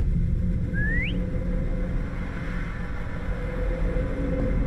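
A single short rising whistle sounds once in the horror video game Lazaret, set aboard a haunted ship, over a steady low engine-like rumble.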